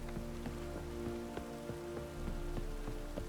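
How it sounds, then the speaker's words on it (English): Steady rain patters on surfaces in The Witcher 3 video game, a dense, continuous hiss with scattered sharper drops, heard alone without talk. "Of course it's raining."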